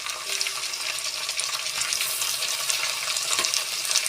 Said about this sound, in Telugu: టమాటాలు వేస్తున్నా.